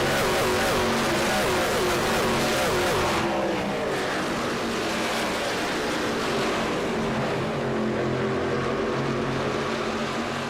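NLG racing trucks at Indianapolis roar into a turn in a dense, continuous engine drone, loud and close throughout, with the pitch shifting as the field passes.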